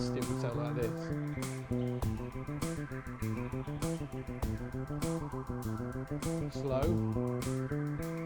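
Fast bass guitar riff, a busy run of quick plucked notes played at double speed, steady and loud with no talking.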